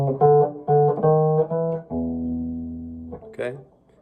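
Chicago blues electric guitar walk-up to the turnaround on the 5th and 4th strings: a few stepped plucked notes climbing to a long ringing low tone, then a brief final note, close and clear with no talking.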